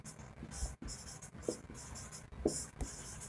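Chalk or marker writes on a board during a physics lecture, with short scratching strokes and taps in quick bursts, close and fairly quiet.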